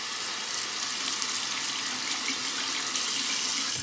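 A safety razor rinsed under a running hot-water tap in a bathroom sink, a steady, close hiss of splashing water that holds evenly throughout with no talk.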